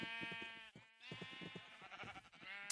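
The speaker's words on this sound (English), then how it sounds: "I made a pen for the sheep that are up, that were in the area, and started breeding them so that I have a supply of wool." Video-game sheep bleat in a pen on a breeding farm, a rapid series of overlapping, nasal bleats from several animals, close and fairly loud with short pauses between bursts.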